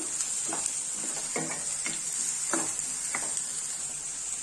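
Onions frying in a pan, a steady close sizzle with several short scraping stirs of a spoon spaced about half a second to a second apart.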